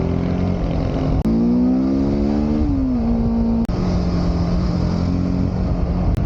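A motorcycle engine drones steadily on a morning group ride to Munnar with RTR 310, Duke 250 and RC 200 bikes, its pitch rising, falling and shifting through gears under wind noise; no talk.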